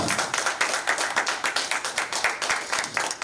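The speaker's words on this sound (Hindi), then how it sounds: "तालियां जो हैं वो जोरदार होनी चाहिए जब इतने बड़े दिग्गज हमारे साथ मौजूद हैं।" Loud, dense audience applause rises for a guest as he is welcomed onto the stage at an Urdu poetry album launch, with steady rapid clapping throughout and no voices over it.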